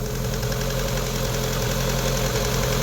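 A Rover 25 GTI engine runs steadily at a high, rough idle from over-fuelling, a constant droning hum with a faint rapid knocking texture, close and unbroken throughout.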